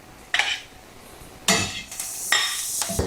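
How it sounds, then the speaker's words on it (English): A utensil scrapes across the bottom of a skillet in three rough, close strokes over a faint sizzle, each scrape loud and gritty. "And scrape the bottom of this pan with."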